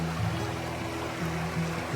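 A river flows along the Spruce Nature Trail in the forest of Olympic National Park, a steady, even rush of water that holds level throughout with no voices over it.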